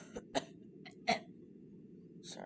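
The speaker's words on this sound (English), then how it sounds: "Sorry, I was clearing my throat." Someone clears their throat in a few short, rough bursts, close and fairly quiet, with pauses between them.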